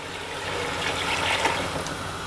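About three glasses of water poured over browned chicken in a cooking pot while making haleem, a steady splashing pour lasting a couple of seconds, close and moderately loud.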